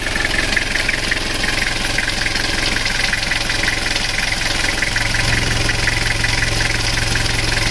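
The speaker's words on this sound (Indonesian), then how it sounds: "Ini adalah kondisi mesin setelah 5 menit dihidupkan tanpa dikendarai." A Toyota Kijang diesel engine with blow-by and oil burning idles continuously with a low, rough rumble and mechanical knocking, constant in level throughout with no talk.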